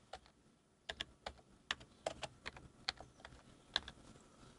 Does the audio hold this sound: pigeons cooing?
no